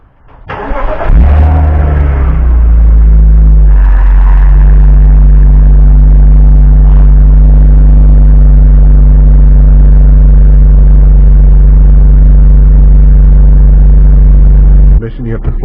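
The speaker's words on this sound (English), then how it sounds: "So let's do a cold start." A BMW car engine cold-starts in a garage: a brief starter crank, then the engine catches with a loud rumble, settles into a steady, strong idle for about eleven seconds, and ends with a short burst of noise.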